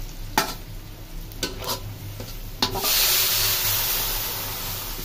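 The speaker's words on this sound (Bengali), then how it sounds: "মশলাগুলো কষিয়ে তারপরে সবজিগুলো ছেড়ে দিব" Spices fry in a pan for a bean, tomato and potato curry, with a few sharp stirring clacks before a loud burst of hissing sizzle swells up and settles into a steady fry.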